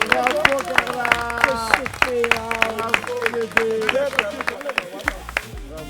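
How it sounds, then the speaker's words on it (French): Audience applause at a house-competition final ranking, scattered claps ringing out under steady music and a voice. "On peut applaudir."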